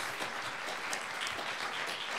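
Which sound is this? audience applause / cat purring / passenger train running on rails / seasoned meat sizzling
audience applause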